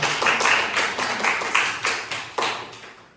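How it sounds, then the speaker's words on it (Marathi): Children in a classroom number-pairs matching game clap for a boy named Shyam, a handful of uneven, fairly close claps spread across about three seconds. "श्यामसाठी एकदा टाळ्या वाजवा"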